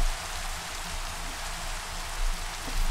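Rain falls steadily at night in a Minecraft game world, a dense, even hiss of drops that stays loud and close throughout, with no voices over it.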